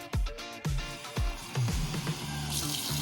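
A tap is turned on and water runs steadily into melting purple-tinted snow and mud, following several sharp splashing knocks, the flow close and fairly loud.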